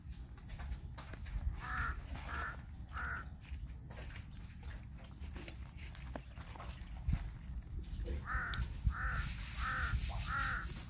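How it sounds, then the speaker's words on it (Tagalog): A crow caws in two bursts of four calls each, fairly distant and clear, over quiet outdoor ambience with faint footsteps. "May uwak ay."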